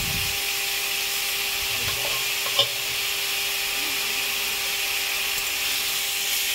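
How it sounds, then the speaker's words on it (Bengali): Mustard seeds and dried chillies fry in oil with a steady, even hiss, a faint scrape and one brief tap partway through. "তেলের মধ্যে দিয়ে দিয়েছে সর্ষে আর শুকনো লঙ্কা"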